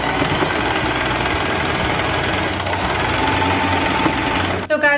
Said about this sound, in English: so I want to do a little stitching